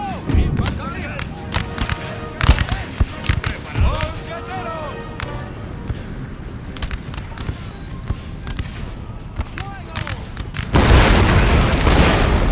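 Cannon and musket fire in the game Empire: Total War, booming shots scattered through a noisy battle soundscape, with a heavy sustained roar of fire near the end; voices are heard in the mix.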